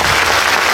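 Audience clapping at a grand Telugu Christian church Christmas celebration in Singapore, a dense, loud burst of applause from a crowd filling the whole moment.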